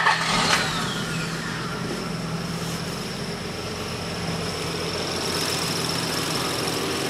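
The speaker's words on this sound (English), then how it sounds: "we'll start up the vehicle and see what we get" A 1993 Infiniti J30 engine idling rough, a close, steady drone with a faint uneven pulsing throughout and a brief higher whine near the start, with no talking.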